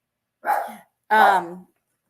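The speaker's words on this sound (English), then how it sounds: "My dog always barks while I'm trying to do something." A pet dog indoors giving two short barks close by, the second longer and more tonal, with silence between and after.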